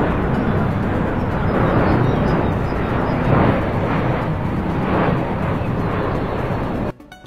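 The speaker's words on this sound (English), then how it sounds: "Now it sounds like a regular airplane" Steady, loud, broadband roar of an Airbus airliner with a modified fuel overpressure protection hole, sounding like a normal airplane with no whistle. The roar continues for about seven seconds and then cuts off abruptly.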